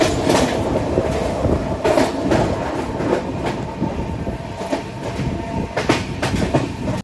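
An overnight passenger train from Bangalore to Kerala rolls along the rails with a steady rumbling drone and rhythmic clickety-clack of wheels over joints, close and continuous with no voices.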